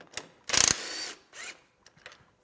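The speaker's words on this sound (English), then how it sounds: "Just loosen up these rear bolts." Ratchet loosening rear skid bolts on a Ski-Doo Rev snowmobile, a loud close burst of rapid clicking, then a shorter pass and a few faint clicks.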